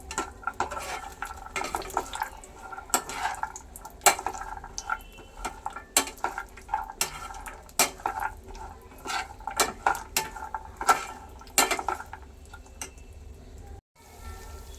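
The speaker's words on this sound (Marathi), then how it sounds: "आता मी आपण जे काळजू घेतलेले ते तुपामध्ये परतण्यासाठी टाकलेले आहे" Cashews roasting in ghee over low heat while a spoon stirs them in the pan, making irregular scraping clinks and taps against the metal over a soft background sizzle, close and fairly quiet.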